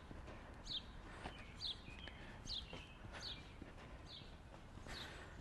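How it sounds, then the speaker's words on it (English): Birds sing outdoors, faint repeated short chirps at roughly even intervals over quiet ambient background, distant and soft with no talk. "I'm just taking in the sounds of the birds."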